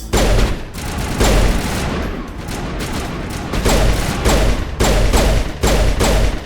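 Carnifex pistol fire in the video game Mass Effect 1, with loud, close shots that come in uneven bursts, about eight sharp reports over a few seconds.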